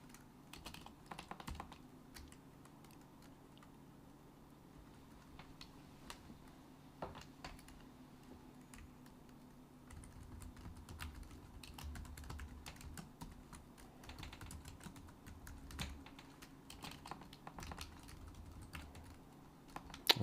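Steady typing on a computer keyboard during C++ programming, soft irregular key clicks running throughout with occasional louder taps and a low background hum.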